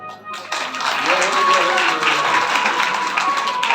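An audience breaks into clapping at a Hindi-language talk, a dense, steady wash of hands that swells after a brief pause, with voices speaking over it.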